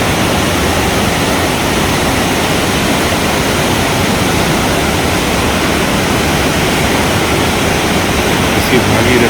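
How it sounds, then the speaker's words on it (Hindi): The Bhagirathi river rushes below a mountain trail on the Kedartal trek, a loud, constant broadband roar of flowing water with no pauses throughout. "नीचे कलकल करता है भागीरथी का पानी"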